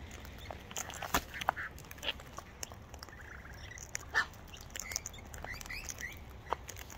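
Cockatoos call in raspy bursts amid scattered seed and buckets at a feeding spot, a steady chorus of screeches and squawks of varying loudness running over continuous background noise.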